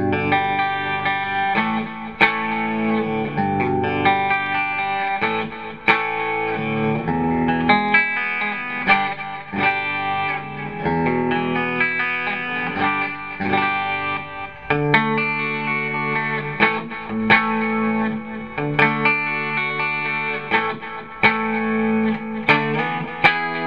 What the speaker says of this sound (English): stomp on the old 1982 vintage Rat distortion pedal for some dirty clips